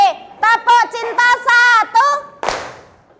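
Children in a classroom chant the tepuk cinta clapping routine in a sing-song voice, ending with a sharp burst of claps near the end.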